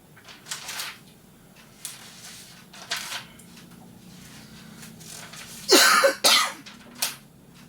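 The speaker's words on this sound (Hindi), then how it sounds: "इतना खांस क्यों रहे हो?" A person with an old-age cough gives a few soft throat sounds, then two loud, close coughs in quick succession, followed by a fainter one in an otherwise quiet room.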